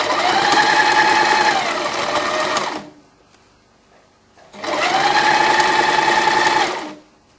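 A sewing machine sews a dart on a braided waistcoat in two steady, close, loud runs of stitching separated by a short quiet pause.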